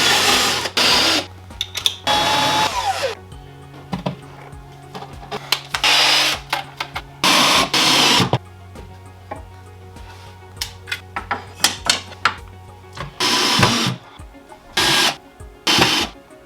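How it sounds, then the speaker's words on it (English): Screws being driven with a power driver into wooden console shelves, several loud whirring bursts of a few seconds each separated by quieter clicks and handling noises. "and then I will start putting the screws in"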